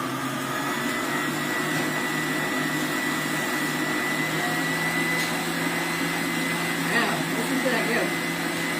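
Electric mixer whipping a chocolate mocha icebox cake filling, a loud steady motor whir that holds constant and close throughout with no pauses.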